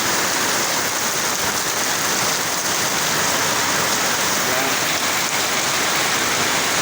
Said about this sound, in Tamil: பாருங்கள் எப்படி மழை பெய்யுதுன்னு